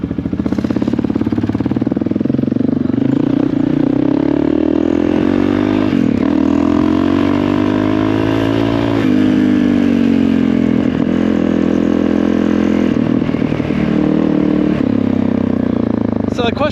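Honda CRF450RL motorcycle under way, its engine droning loud and close with pitch rising and falling as it revs through gears, steady throughout and mixed with rushing wind.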